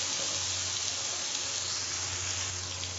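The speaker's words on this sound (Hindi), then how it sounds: "गोश्त को फ्राई कर लेना" Mutton fries with garlic and onion in a pot, giving a steady, even sizzle and hiss that stays constant and close throughout with no talking over it.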